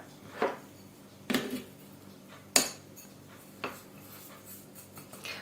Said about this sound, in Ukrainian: Тепер в цю крихту я додаю цукрову пудру і мигдальне борошно, сіль, і також перемішую це все.